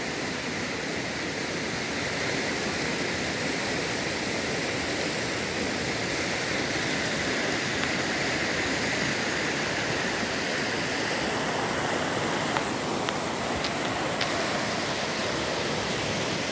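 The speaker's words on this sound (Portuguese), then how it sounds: "esse é o riacho aqui da cidade de Vanderlei. É o maior riacho aonde encontra todas as enchentes" A flooded creek in a town in Bahia, Brazil rushes loudly and continuously, a dense, steady roar of fast-flowing floodwater heard close up with no voices.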